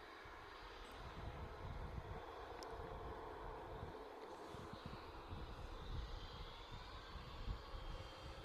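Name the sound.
EasyJet Airbus A320neo jet departing to Amsterdam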